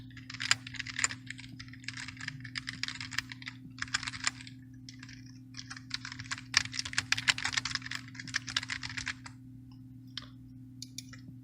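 Rapid bursts of close computer keyboard typing enter sign-up details for a website, clattering in irregular runs with short pauses over a steady low electrical hum, no voices present.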